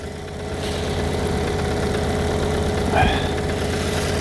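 A 2.0-litre 200 hp petrol engine in an Alfa Romeo Stelvio 4x4 idles with an eight-speed automatic, giving a steady, close, even hum with a low mechanical rumble and a brief rise near the end.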